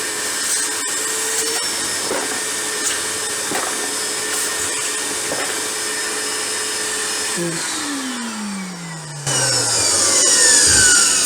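An Evolution R15VAC corded vacuum cleaner runs steadily with a loud whining motor roar, occasional clicks and rattles of screws being sucked up, and a pitch sweep toward the end as the airflow changes.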